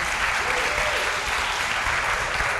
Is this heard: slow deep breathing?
no